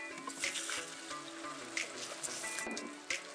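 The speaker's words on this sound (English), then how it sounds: "After those 5 minutes, add 1 cup of red wine." Liquid pouring and splashing steadily, fairly close, with a few small clinks, as a cup of red wine goes into a pot of simmering food on the stove.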